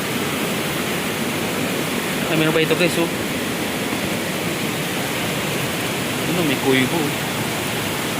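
Water gushes hard from Wawa Dam in a constant, loud roar with no break, while a voice talks briefly over it.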